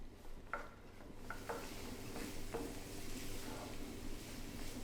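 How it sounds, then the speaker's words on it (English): Finely diced onion softens over medium heat in a frying pan, giving a quiet steady sizzle broken by a few light scrapes and knocks of a utensil stirring it. "Add a finely diced onion and cook for 5 minutes, stirring often until softened."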